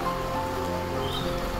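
Steady rain falls at a hilltop tea shop at Ilaveezhapoonchira, a dense, even patter of drops spread across the whole moment with no voices.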